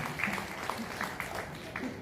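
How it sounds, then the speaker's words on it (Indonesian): Faint, scattered applause from guests at a birthday gathering, a soft patter of clapping with a few distinct claps over a low room murmur. "Ini mohon tepuk tangan untuk Mas Sumarsono ini, foto Mas Sumarsono."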